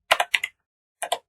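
Short bursts of keystrokes on a computer keyboard while entering a sudo command in Kali Linux, two quick clusters of close, crisp clicks separated by a brief pause.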